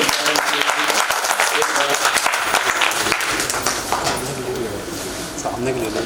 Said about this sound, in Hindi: मैं चाहूँगा आप लोग जोरदार ताली के खुशी से